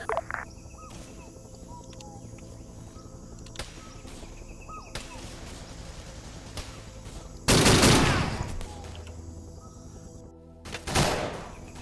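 Arma 3 combat in a Vietnam-era scenario: bursts of gunfire crackle amid a steady buzz of insects and ambient noise, with two loud, dense volleys standing out near the end.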